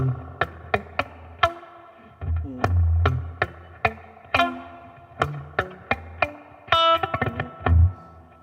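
Distorted electric guitar chords strummed unevenly, with sloppy stops and muted thumps between strikes, sounding clumsy and uneven throughout.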